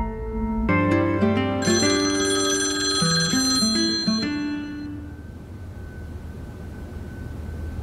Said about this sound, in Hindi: अगर तुमने मेरी कॉल रिसीव नहीं की तो अगला फोन उसामा को करूंगा मैं।